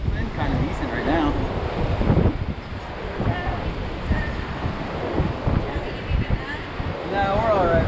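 Wind buffeting a microphone at a fishing jetty, a steady broadband rush with surf-like swells throughout, while people talk over it nearby.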